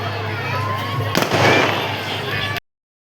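Firecrackers burst at a neighborhood puja festival in Bangalore, a loud, dense crackle running steadily with a heavier burst of pops in the middle, then cutting off abruptly.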